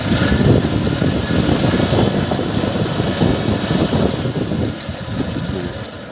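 Carbureted Daihatsu Feroza engine running loud and close, a steady rough rumble held under throttle before it eases slightly toward the end, with no voices over it.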